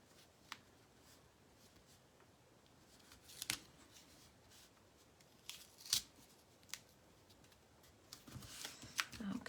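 Scissors snip paper card elements in a few short, crisp cuts spread across a quiet crafting table, with faint rustling of paper between the sharp snips.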